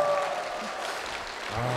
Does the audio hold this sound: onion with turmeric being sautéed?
no